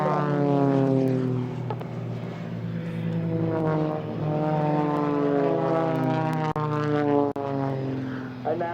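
Blades aerobatic propeller aircraft passing head to head at an airshow, a loud sustained engine drone with strong harmonic tones and slowly shifting pitch as the planes close and cross, steady throughout.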